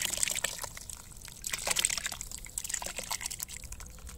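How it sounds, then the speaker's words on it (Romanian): Tomatoes are poured into a pot of chicken broth for a homemade onion stew, giving soft, uneven splashing and trickling that swells midway and then settles into faint dribbles. "Acum punem și roșiile"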